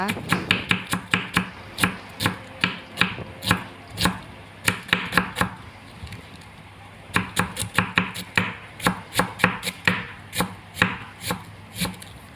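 A knife chops cabbage rapidly and steadily on a cutting board, slicing it thin, crisp repeated strikes in fast runs with a brief pause midway, close up and without talk.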